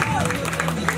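Guests at a baby shower applauding a third game participant, a brief continuous patter of clapping under crowd chatter and a talking voice.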